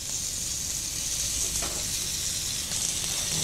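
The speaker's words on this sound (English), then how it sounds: "We have to cook the pork first. Beautiful. Can you hear the sizzling?" Pork frying in a pan gives a steady bright sizzle with soft crackles and a faint stir near the end, close and continuous with no talking.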